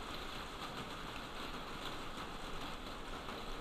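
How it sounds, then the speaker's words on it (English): Heavy rain lashing against a window, a steady dense hiss with a constant wash of patter and no clear gaps, sounding fairly close and continuous throughout without any talking. "Sorry if you can hear the rain on the mic, guys, smashing up against the window. It's so loud now."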